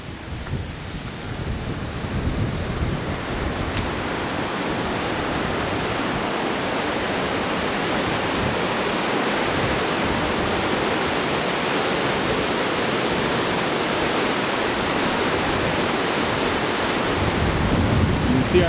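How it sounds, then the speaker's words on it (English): Small stream or river running behind a campsite near an abandoned ghost town in Québec, a steady broadband rush of flowing water, close and continuous throughout. "There's a small stream or river that runs behind our campsite."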